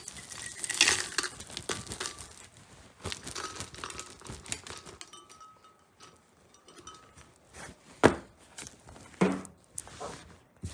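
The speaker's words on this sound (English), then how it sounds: "and start dumping it into our blender." Ice cubes tumbling from a tea towel funnel into a blender for a chai tea frappuccino, giving irregular crinkling, clattering bursts with a couple of louder knocks near the end.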